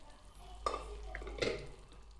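Mashed pav bhaji vegetables with capsicum and onion being stirred and fried in a pan, soft scraping strokes with a light sizzle, close and quiet.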